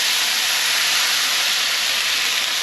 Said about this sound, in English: I'm just going to pour that into the frying pan